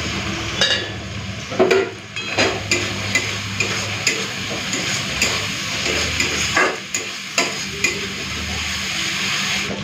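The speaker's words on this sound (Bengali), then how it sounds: "মশলাটা ভালো করে কষে নিয়েছি" Spice paste with chopped tomato sizzles in oil as it is stir-fried, with a steady crackle broken by regular scrapes and clinks of a spoon against the pan, close and alone.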